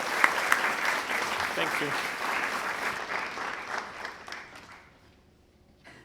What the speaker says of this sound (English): let's have one round of applause for our amazing staff here at the center.